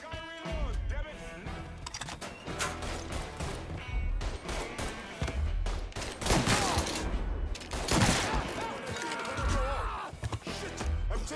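Heavy gunfire in a Mafia III shootout: dense bursts of automatic fire and sharp shots crackle nearly nonstop, loud and close, with impacts and crashes mixed in.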